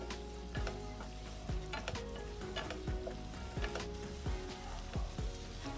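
Tomato, green chilli and a piece of kudampuli sauté in a pan for a fish-free fish curry, a steady close sizzle with regular scraping stirs of a spoon against the pan roughly every second.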